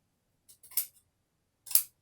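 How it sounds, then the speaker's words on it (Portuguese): Fabric scissors snipping sewing elastic for a sweatshirt cuff, a few quick crisp snips followed by one sharper cut after a short pause, close and alone. "Então, eu vou cortar aqui, ó"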